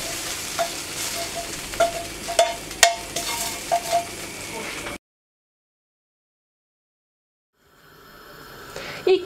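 Köfte meatballs sizzle and spatter in a hot pan for about five seconds, with sharp crackling pops. Abrupt silence follows, then a quieter sizzle returns near the end.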